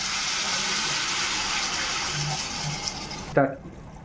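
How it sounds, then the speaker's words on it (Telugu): Water pours steadily into a pot of rice for veg biryani, a continuous hissing gush that stops abruptly near the end with a small splash and clink. "ఇప్పుడు మనం వాటర్ యాడ్ చేసుకుందాం."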